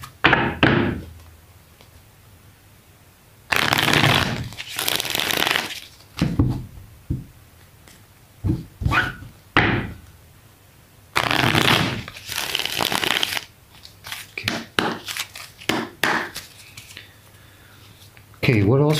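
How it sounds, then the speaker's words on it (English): Tarot cards are shuffled close up in two quick riffling bursts, with a person talking in between. "Give it three shuffles"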